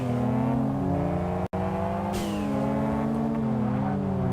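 An all-wheel-drive car launches hard in Kaido Racer, engine revving with rising harmonic tones that climb through the gears, loud and close throughout, briefly cutting out before surging again.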